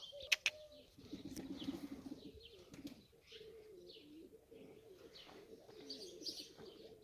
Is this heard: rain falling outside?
no